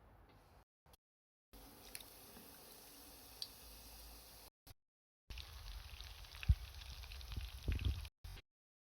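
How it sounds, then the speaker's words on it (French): Potato cheese croquettes sizzle in frying oil, a faint, steady crackle with occasional pops and soft bumps, heard close with no talk. "Je vais maintenant passer à la friture."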